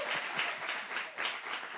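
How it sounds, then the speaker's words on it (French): A brief burst of applause from a studio audience on a Togolese television program, steady and moderately loud for under two seconds. "Ça s'applaudit"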